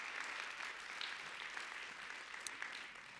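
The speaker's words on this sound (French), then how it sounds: "Donne au Seigneur une main d'applaudissement avec moi pendant 5 secondes." A church congregation clapping in praise, a soft, distant and steady patter of many hands that carries on without a break, with no voices.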